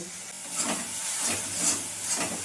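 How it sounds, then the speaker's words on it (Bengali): Spices and ground tomato fry in a pan, giving a steady hiss with soft crackling bursts rising and falling over a couple of seconds, close and fairly loud. "দিয়ে দেবো বেটে রাখা টমেটো, টমেটোটা দিয়ে আমি আবারও কষিয়ে নেব।"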